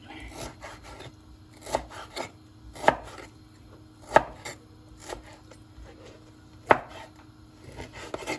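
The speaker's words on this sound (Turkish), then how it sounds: "Şimdi etmi doğrayacağım." A knife chops through chicken on a board in irregular strikes, several sharp thuds standing out among softer cuts and scraping, close up with no talking.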